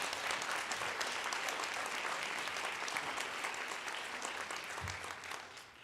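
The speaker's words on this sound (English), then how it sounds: "I would ask if you all would at least give him a round of applause for that track record and that service." A bar association's board meeting audience gives a round of applause honoring a member's service: steady, full-room clapping heard from a distance, holding evenly for several seconds before fading slightly.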